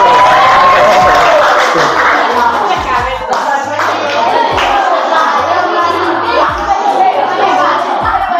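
A classroom of children clapping during a coaching and supervision session at an Indonesian school, loud and sustained, with kids' voices and chatter mixed in over the applause.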